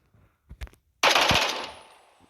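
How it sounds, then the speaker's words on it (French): An M16A1 assault rifle in the Minecraft TACZ mod lets off a loud, sudden burst of automatic fire that rings out and fades over about a second, after a few soft handling clicks. "on a le fusil d'assaut M16A1"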